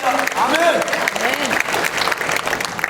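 A church congregation claps for the Lord during a Christmas sermon, a dense, steady round of applause filling the room while the pastor's voice carries over it.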